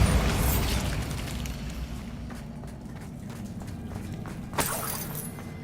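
A Bombarda blasting spell explodes in Hogwarts Legacy, opening with a loud rumbling boom that decays into a low roar, followed by a sharper crack-like burst near the end.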